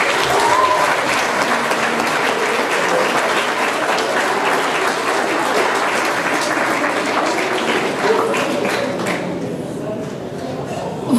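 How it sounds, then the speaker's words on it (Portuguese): A live show audience applauds the jury in a sustained burst of dense clapping that stays loud for several seconds before thinning out near the end. "queria então pedir uma grande salva de palmas para o nosso júri"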